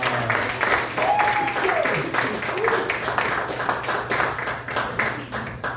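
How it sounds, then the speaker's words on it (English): Applause from a live comedy show audience, a steady crowd of clapping lasting several seconds, with a voice and a brief sliding tone over it early on. "Give a round of applause"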